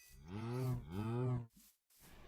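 A cow in the farming game Magic Farm gives two long, low moos in quick succession, close and loud, followed by a brief rustle and near silence.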